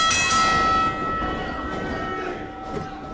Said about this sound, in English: Referee calling for the bell.